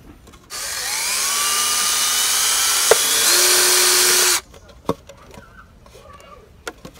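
A power drill whines steadily for several seconds, its pitch shifting as it bores holes into wood, then stops; a few faint clicks and knocks follow.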